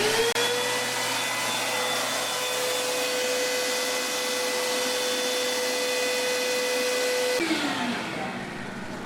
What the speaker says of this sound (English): they'll vacuum out the chiller